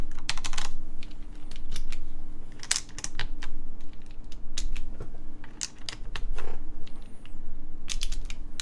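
Keycaps are pulled off and pressed onto a mechanical keyboard, giving a run of close, sharp plastic clicks and clacks in irregular bursts, loud and up front with no talking.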